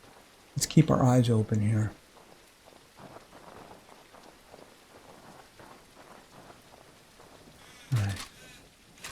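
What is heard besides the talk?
rain in the video game No One Survived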